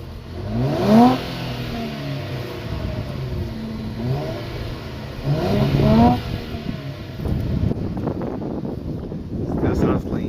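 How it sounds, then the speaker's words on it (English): An Infiniti car engine on its stock exhaust revs in a few rising bursts, loud and close, with voices talking over parts of it. "Stock rev. He literally just took off his muffler delete."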